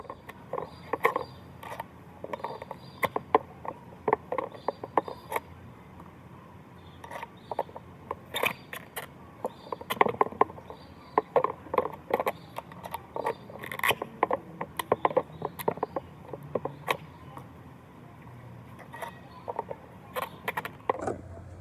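Skateboard bearings being pressed into wheels by hand as the wheel turns, giving irregular clicks, small metallic ticks and rubbing scrapes in quick bursts, fairly close and moderately loud, with no talking.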